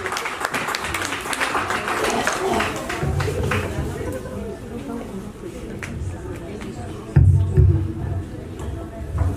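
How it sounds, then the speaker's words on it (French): At a Congolese community International Women's Day celebration, an audience claps in a steady round of applause under chatter and crowd murmur, fading as talk takes over, with a louder burst of noise near the end. "Merci pour vos applaudissements aussi"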